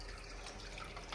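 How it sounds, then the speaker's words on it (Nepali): Water from a fish bucket is poured into a new aquarium tank, giving a soft, steady splashing trickle heard up close for about a second. "अलिकति यसको पानी चाहिँ मैले यसमा हालिदिन्छु"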